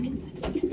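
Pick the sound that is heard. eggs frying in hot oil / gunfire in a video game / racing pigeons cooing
racing pigeons cooing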